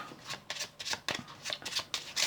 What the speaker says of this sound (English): They can give it a shuffle like this if they want.